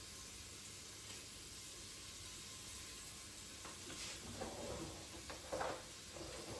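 Garlic and ginger sizzle while being stirred in a Crockpot Express, a quiet steady frying hiss with soft scraping and stirring clatters toward the end, and no talk.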